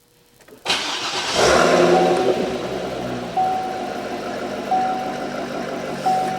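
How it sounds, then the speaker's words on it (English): A Chevrolet Corvette's engine fires up and settles into a deep, steady V8 rumble at idle, with a few small blips in revs, close by. "you can hear that just V8 rumble"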